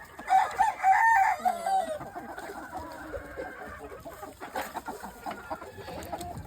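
Gamefowl on a yard cluck and a rooster crows loudly nearby near the start, followed by softer scattered clucking and faint rustling against quiet outdoor background.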